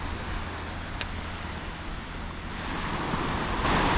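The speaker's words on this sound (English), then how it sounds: "Let's go look at the waves." Steady roar of surf from ocean waves, swelling louder toward the end, with wind noise and no voices.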